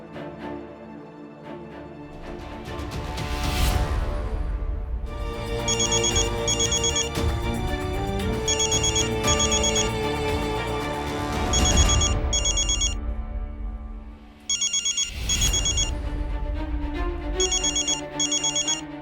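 A phone rings out while a number is being called back, a bright melodic ringtone repeating in loud bursts with short pauses and swelling accents, playing alone without talk.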